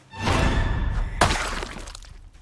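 A window breaks in the zombie survival game Project Zomboid, a loud close crash of shattering glass followed by a short tinkling decay as the shards settle.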